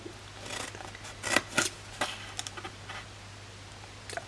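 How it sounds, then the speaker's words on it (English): Scissors cutting the end panel off a decorated paper box made from patterned Springtime Foils designer paper, a few crisp snips and rustles close by with quiet gaps between. "I'm just going to cut off completely the end panel"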